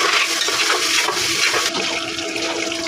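Water splashes steadily into a cooking pot of haleem already holding cardamom, cinnamon, bay leaf and ginger, a continuous close rushing pour lasting a few seconds.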